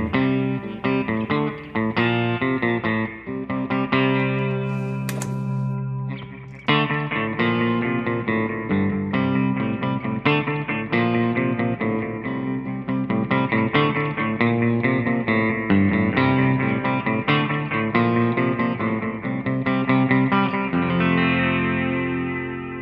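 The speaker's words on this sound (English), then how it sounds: "I'm going to start with a analog delay running into a plate reverb." An electric guitar runs through an analog delay into a plate reverb pedal from the Source Audio One Series, with sustained chords and notes trailing into echoing repeats and a wide reverb wash, loud and continuous with no talking.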